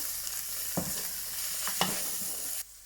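Callaloo and saltfish stirred in a hot pan, with a continuous bright sizzle broken by a few scraping utensil strokes before it cuts off abruptly near the end; close by, no voices.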